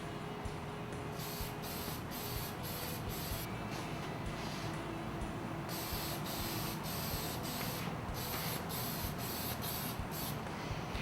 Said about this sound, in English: the next step is to apply the final stage, which is the top coat satin clear coat